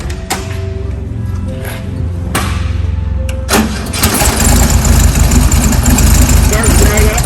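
A 1973 VW Bug Coupe, cold, cranks briefly and catches, then settles into a steady, loud air-cooled idle close by, with a few clicks and thumps before the start.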